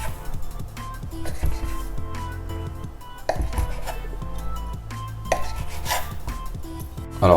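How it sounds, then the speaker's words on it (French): A knife cuts a thin log of churro dough into six pieces on a board, giving a few distinct close taps and clinks against a background hum, with no talking. "Vous allez venir couper votre boudin comme ça. On va le couper en 6."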